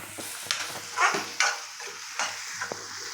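Egg fry being stirred in a pan: a handful of spatula scrapes and taps over a light sizzle, close and moderately loud, with no voices.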